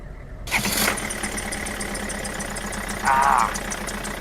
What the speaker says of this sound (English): That is a big engine.